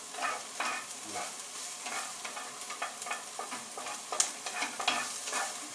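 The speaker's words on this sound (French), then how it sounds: "je disperse mes oignons dans la poêle" Onions sizzle steadily in a hot frying pan and are shaken and stirred continually, so soft scraping and rustling bursts break through the frying hiss. The sound is close, moderately quiet and free of speech.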